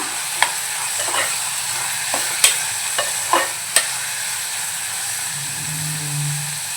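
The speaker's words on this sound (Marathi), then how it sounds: "आता आपण भिजवलेली चणा डाळ घालून घेऊया परतवूया" Soaked chana dal and softened onion are stir-fried for Malvani-style dal kanda, with sharp scraping spoon strokes over a gentle, continuous sizzle; a low hum rises near the end.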